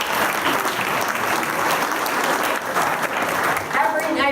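Loud, sustained applause from a crowd at a political party dinner, dense clapping that continues steadily, with a voice rising briefly near the end.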